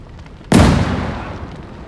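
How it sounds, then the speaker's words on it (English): A grenade blast in the World War II game Call to Arms: Gates of Hell, heard as one sudden, loud, close boom that rolls off into a long, fading rumble. "Grenade out!"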